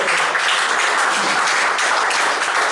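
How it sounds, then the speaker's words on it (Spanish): A church congregation applauding the Lord, a loud, dense, even roar of many hands clapping that holds steady for the whole stretch with no voices. "Yo pensaba que usted iba a dar un aplauso al Señor por eso."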